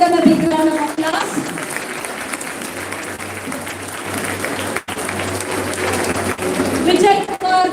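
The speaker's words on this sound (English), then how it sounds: "give them a big round of applause" College day audience applauding prize winners, broad sustained clapping from a crowd, with an announcer's amplified voice heard at the start and end.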